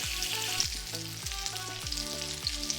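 Hilsa fish frying in oil for an Old Dhaka fuluri ilish dish, a continuous bright sizzle with a regular pulsing pattern underneath.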